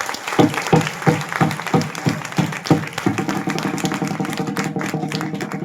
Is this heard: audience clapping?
yes